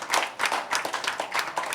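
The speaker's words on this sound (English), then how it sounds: "I would urge everyone to give a huge round of applause today for Ms. Vidya Balan" Audience applause for actress Vidya Balan at a book launch event, a steady wash of clapping from a crowd that swells and dips briefly without voices over it.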